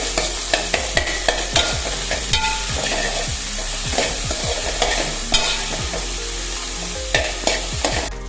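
Onions frying in a pan are stirred with a spoon, giving rhythmic scraping strokes over a constant loud sizzle. The sound is close, with no talking.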